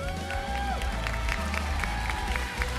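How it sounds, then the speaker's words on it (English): Esports arena crowd at a Malaysian mobile league match applauding and cheering, a steady dense wash of clapping with scattered whoops, loud and continuous throughout. "a round of applause"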